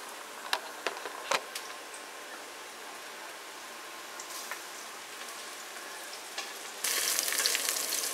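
Ginger and then garlic hit hot oil in a pan, a steady crackling sizzle with a few sharp pops early on, swelling noticeably louder near the end as more goes in.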